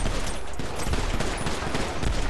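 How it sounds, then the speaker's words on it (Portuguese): Rapid gunfire crackles through a shootout in the GTA RP video game, a dense, continuous volley of shots that stays loud and busy throughout with no pauses. "Vai trocar tiro com os caras ainda de lá"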